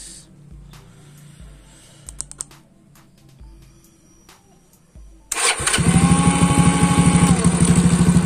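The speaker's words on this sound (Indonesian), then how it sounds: "Sekarang kita coba hidup starter dari remote ya guys ya." A motorcycle is started by a remote starter. Quiet clicks and a few starter pulses come first, then the engine catches abruptly and settles into a loud, steady, close idle.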